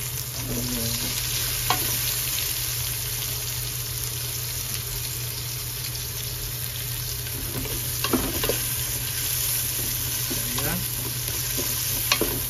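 Chopped onions sizzle steadily in hot oil in a small saucepan, with a constant frying hiss and occasional clinks of a utensil stirring them.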